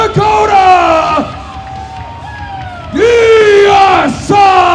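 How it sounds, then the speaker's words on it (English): A hometown wrestling crowd in Fargo, North Dakota roars and yells in loud sustained bursts, with strong rising and falling chanting tones, dipping briefly in the middle before surging again. "The hometown crowd showing their support for Diacide here in Fargo."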